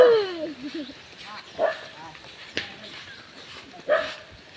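A few short dog barks and yips ring out at intervals amid background voices and outdoor noise.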